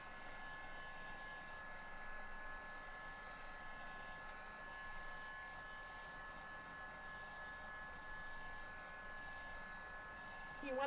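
Heat tool drying mixed media paint, a steady whirring blower hum with a thin whine, close and unchanging, under occasional faint talk.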